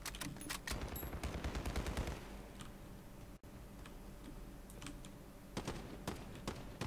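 Rapid gunfire rattles in Call of Duty Warzone, dense bursts of shots at the start and again near the end with quieter scattered pops between.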